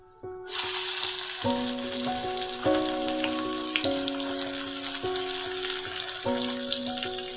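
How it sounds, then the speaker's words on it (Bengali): Chopped onions fry in a wok for a chicken dish with a close, busy sizzle that stays steady throughout, while a soft tonal melody plays in the background. "দিয়ে আবার এটাকে ভালো করে পেঁয়াজটাকে ভাজা ভাজা করলাম।"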